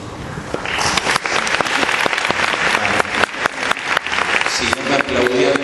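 Audience applause at a talk with writer Sacheri and director Campanella, dense steady clapping throughout with a few sharper close claps, loud and sustained from a full hall.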